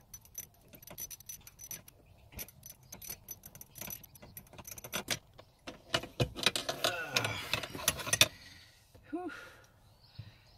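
A bolt being worked loose on the flexible steering coupler of a 2014 Kia Cadenza, quiet clicking and ratcheting taps under the dash with small metallic jingles, growing busier toward the end.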